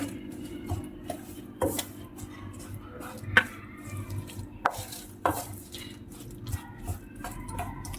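Peanuts and jaggery are stirred together in a pan taken off the heat, giving quiet, uneven scrapes and knocks of a spoon against metal, close and fairly faint with no talking.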